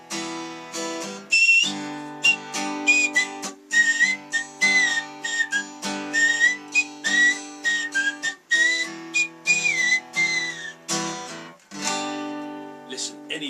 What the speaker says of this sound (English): you were going for the teeth whistle as well, not the lip whistle, the teeth whistle